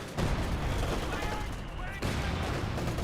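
Rumbling artillery and gunfire in Company of Heroes 2 keep up a loud, dense barrage with two sharp onsets, while a voice talks over the battle.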